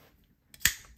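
A Microtech Stitch out-the-front automatic knife, made in the U.S., fires its blade forward with a single sharp, loud mechanical snap after a brief quiet lead-in.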